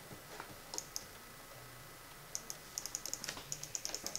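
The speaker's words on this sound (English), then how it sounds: "let's just keep repeatedly clicking this button" Computer keyboard or mouse clicks come in sharp, close, irregular bursts, sparse at first and then a rapid run of repeated clicks near the end, over a quiet background hum with no speech.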